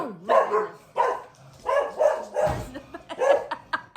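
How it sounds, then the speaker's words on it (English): A dog barks repeatedly at nothing, loud and close, with a burst of sharp, evenly spaced woofs and a short whimper in between. "my brother's dog barks at nothing"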